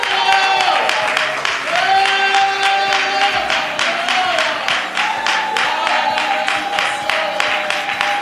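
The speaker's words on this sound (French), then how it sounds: "Clap for the Lord" A church congregation claps in rhythm at an Easter service, with steady repeated clapping under singing and talking voices.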